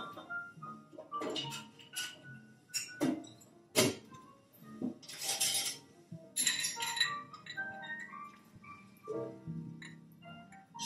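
Bar spoon stirring a Manhattan of vermouth and dry whiskey in a glass, with soft close clinks and ticks of ice scattered irregularly through a quiet room.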